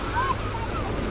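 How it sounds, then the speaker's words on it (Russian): Ocean surf washing onto a tropical beach by a coral reef at Unawatuna, a steady broadband roar of waves mixed with gusty wind noise across the microphone. "Смотрите, какой океан!"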